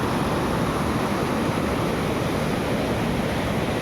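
A waterfall pours with a continuous broadband rush of water, close and steady, without any voices.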